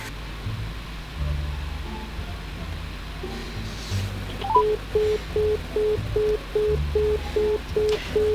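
A brief dialing tone is followed by a repeating busy signal, short even beeps with gaps, over faint background hiss and low rumble; the phone call is to a lab.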